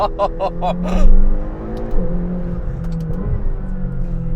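A turbocharged Lamborghini lets off the gas on an open road, giving a quick burst of fluttering turbo chatter before the engine drones on with shifting revs, loud and close.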